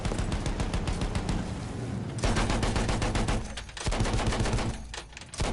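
Dense gunfire in the video game Battlefield 1 during street fighting, rapid repeated shots in long rattling volleys with brief pauses between them, loud and continuous, with no talking.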